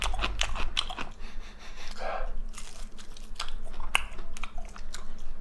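Someone chews crispy food at a Korean gukbap restaurant, with crunchy bites and crackles repeating close to the ear; people talk in the background.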